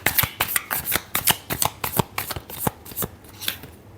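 Tarot cards being shuffled by hand in a rapid run of about a dozen crisp riffling bursts, close and loud, each a sharp papery flutter in fairly even rhythm.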